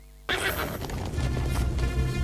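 A horse whinnies loudly in a film scene, its call bursting in after a brief quiet start and carrying on over a dense, loud soundtrack with clashing, crashing background noise.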